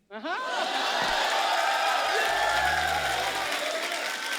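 A television studio audience on a comedy talk show breaks into sustained loud applause and cheering that starts abruptly and keeps going, with no talk.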